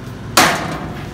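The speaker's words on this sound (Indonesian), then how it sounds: "Ya kita ketok ini palu beneran nih" A single sharp, loud hammer strike on an iron pole outside a house, a bright metallic clang that rings briefly and fades, with nothing else heard.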